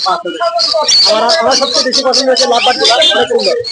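Lovebirds at a bird market in Mirpur, a dense, loud stream of high chirps and squawks layered over one another, heard close and without pause.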